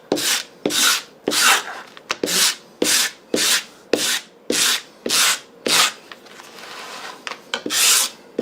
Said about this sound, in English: So I'm gonna scratch this smooth side so that cement will